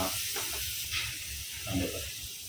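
Onion and tomato sauté in a hot pan, giving a soft, steady hiss and sizzle with a few faint bursts of spatter and no talking.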